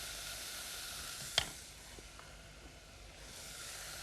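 Lentils roast in a pan with a soft, faint sizzling hiss and a single sharp knock of a utensil against the pan, then quiet stirring, heard close with no talking.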